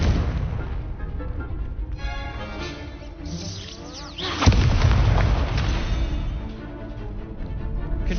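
Confringo spell blasts in the Hogwarts Legacy video game, with booming fiery explosions and a sharp loud impact midway amid ongoing combat effects.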